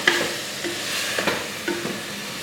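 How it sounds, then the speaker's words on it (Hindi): Masala frying on a high flame, a close, steady sizzle broken by a few sharp stirring scrapes against the pan, with no talking. "तेज़ आग पे भून लें ताकि मसाला जल्दी जल्द हो जाए"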